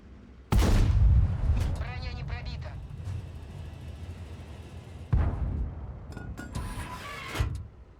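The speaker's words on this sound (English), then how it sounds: "Is it just me or do you hear the autoloader sound?" Object 283 tank in World of Tanks firing a loud, booming cannon shot, followed by mechanical clanks and whirring autoloader noises, then another heavy blast with rattling after it, while someone talks over much of it.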